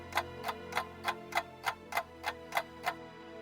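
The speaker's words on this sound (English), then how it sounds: "the grandfather clock that was ticking away in the hallway" A grandfather clock ticks in a hallway, ten steady, evenly spaced ticks about a third of a second apart, fairly close and clear over a low background hum, with no talking.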